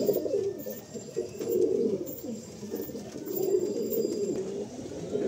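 A pair of pigeons in a loft coo softly and continuously, with low, rolling, overlapping calls close by and no talking.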